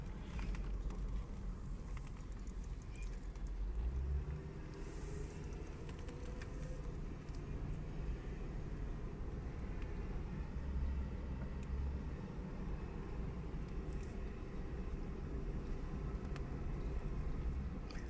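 A car driving along roads in Saudi Arabia, its steady low engine and road rumble running continuously at moderate level throughout, with no talking.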